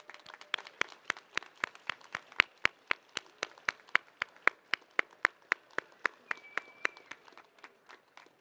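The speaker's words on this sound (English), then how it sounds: "Let us all applaud our families and friends, showcasing our gratitude for their unwavering support." At a high school commencement ceremony, an audience claps for graduates' families and friends. The sound is sparse and fairly faint, made of many distinct, regularly spaced claps rather than a dense roar.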